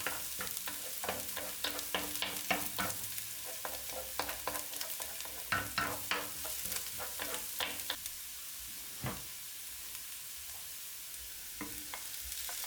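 Onions sautéing in a pan for a pork in pickle sauce dinner, a busy close sizzle broken by frequent scraping stirs and clinks that thin out in the last seconds.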